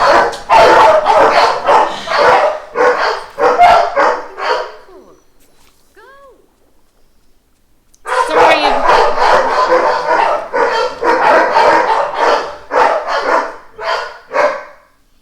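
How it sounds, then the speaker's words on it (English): Household dogs bark loudly and repeatedly at close range in rapid bursts, pausing briefly midway before erupting again, with a voice talking over them. "My dogs were barking!"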